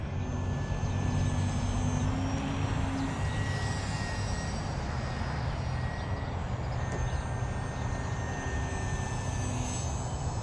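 A foam RC 3D aerobatic plane, a slow-flying model, buzzes overhead with a continuous electric motor whine that rises and falls slightly in pitch, steady and moderately loud against outdoor ambience.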